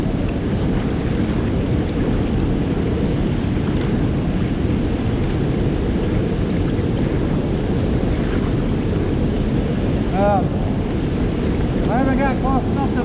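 Turbulent water churning below the Osage River dam tower makes a loud, continuous rushing roar close by, with steady wind buffeting and a few faint chirps near the end.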